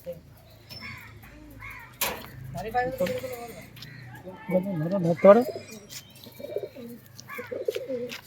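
High-flyer pigeons coo and murmur intermittently nearby while someone talks steadily over them.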